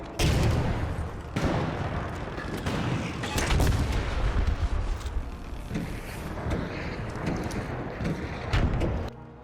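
Gunfire from the Jupiter bolt-action rifle in the video game Arc Raiders: loud, dense booming shots and blasts fill the whole stretch with little pause, close and heavy, with a few sharper cracks standing out.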